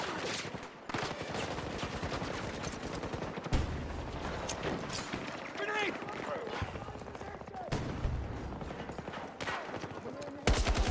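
Battlefield 6 gunfire: dense, continuous bursts of shots and impacts running throughout, heard under a voice talking over the action.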